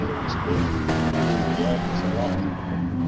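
A race car in a racing game slows under hard braking, its engine note dropping in steady downshifting tones with tyre noise, loud and close, under a commentator's talk.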